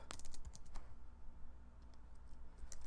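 Keys on a computer keyboard click in a quick burst and then a few scattered taps as an email address is typed. The clicks are close and faint against a quiet room hum.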